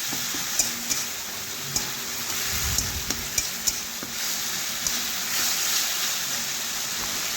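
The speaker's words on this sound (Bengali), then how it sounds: "মশলার সাথে ভালোভাবে ভেজে নেব এইভাবে নাড়াচাড়া করে" Tomatoes frying with spices in a pan sizzle steadily while a spoon stirs them, adding repeated sharp clinks and scrapes at irregular intervals, close and fairly loud.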